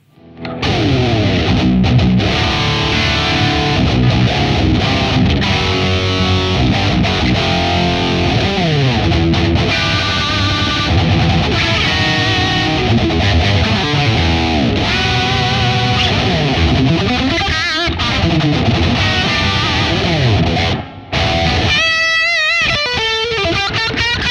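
A Chilean-made Folsch electric guitar played through heavy distortion, with sustained loud chords and fast melodic runs ringing continuously, then a brief drop near the end before more bright, busy playing, with no talking.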